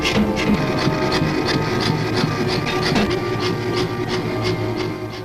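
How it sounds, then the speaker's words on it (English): Automatic hammer pounding bell clappers at a bell foundry in Whitechapel, a steady run of rapid, evenly spaced metallic blows over a dense workshop din, close and loud throughout. "Pounded into shape by the automatic hammer, these clappers weigh anything from 28 pounds to 100 weight."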